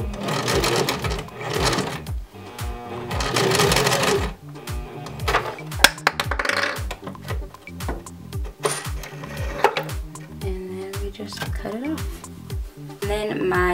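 Sewing machine running a straight stitch in bursts, its rapid mechanical chatter starting and stopping with short pauses between runs, close and clear.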